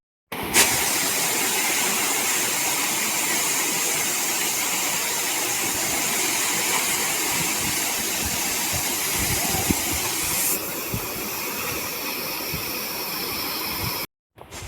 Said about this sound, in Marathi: आपण बघा पाठी बघू शकता धबधबा बघा कसला मस्त आहे